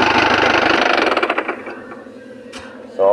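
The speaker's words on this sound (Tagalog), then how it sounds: "Ganito lang pag patay ng makina pag nag-wild siya." A runaway Isuzu 4JB1 diesel engine roars loudly with a fast, steady clatter, then bogs down and dies away as its air intake is choked off with a slipper, leaving quiet, with a brief knock near the end.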